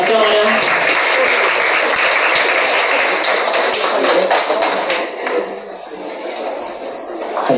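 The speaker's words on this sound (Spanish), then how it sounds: "Fuerte las palmas, a ver, en una cámara." Audience applause at an award ceremony, a dense steady wash of clapping hands that stays loud for several seconds, thins slightly toward the end, and has a voice faintly audible beneath it.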